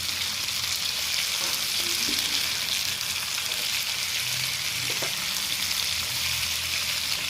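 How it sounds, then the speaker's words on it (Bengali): Papaya pieces frying together with hilsa fish roe in a pan, giving a steady, close sizzle and hiss that runs unbroken throughout, with faint stirring clinks now and then. "এর ভেতরে আমি ইলিশ মাছের ডিম দিয়ে ভেজে নেব একসাথে।"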